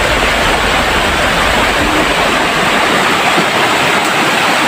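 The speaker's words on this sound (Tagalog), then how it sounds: "Yung sapa na ito, puno ng pampers." A steady, loud rush of flowing creek water fills the scene without a break, a broadband wash with no voices over it.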